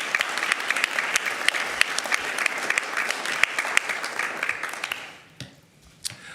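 Applause at a school district board meeting honoring counselors: dense crowd clapping with scattered sharper claps fills most of the clip, then thins out and fades near the end.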